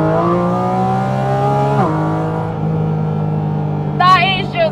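A Porsche GT4 RS engine revs hard and climbs through the gears, a rising howl with a sharp shift break partway, then a high squeal-like burst over the continuing engine roar near the end.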